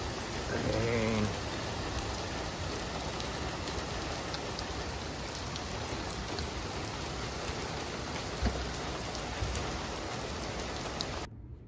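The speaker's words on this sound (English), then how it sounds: "We've been getting a little bit of rain" Steady rain falls throughout, a dense even hiss of drops on surfaces with no talk, holding at one level before cutting off near the end.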